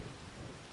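Heavy rain pouring down in Farming Simulator 25, a steady dense wash of rainfall with a low rumbling undertone, continuous and fairly quiet, with no voices.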